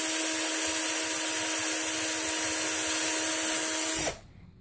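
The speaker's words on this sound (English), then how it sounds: "I'm gonna be just eyeballing that when I do this pilot hole" A power drill bores a pilot hole into the wooden frame of a small canvas, a steady high whine that runs for about four seconds and then cuts off abruptly, with no talk.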